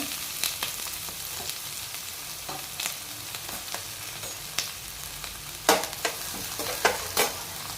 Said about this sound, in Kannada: ಕರಿಬೇವು ಈರುಳ್ಳಿ ಎರಡು ಒಟ್ಟಿಗೆ ಹಾಕೋಣ